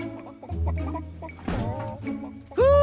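Hens cluck in an animated film trailer, a series of short, close clucks and bursts of fowl chatter, ending in a louder drawn-out squawk.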